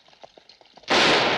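A single loud gunshot is fired at a horse outdoors, a sharp blast after about a second of quiet, murmuring background, its broadband roar sustained and filling the rest of the moment.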